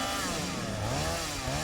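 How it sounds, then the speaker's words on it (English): Chainsaw in the video game Satisfactory running steadily at high revs, a loud continuous buzzing drone with slight pitch wavering, heard alone. "Can I kill you with a chainsaw?"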